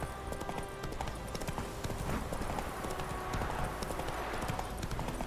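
Horse hooves clip-clop in a steady galloping rhythm throughout, loud and close, in the video game The Witcher 3 with a faint background score and occasional neighing underneath.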